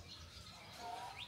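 Small birds chirp faintly in a Tulum-area cave where birds come to nest and lay eggs, a few thin calls rising over low rumbling background noise.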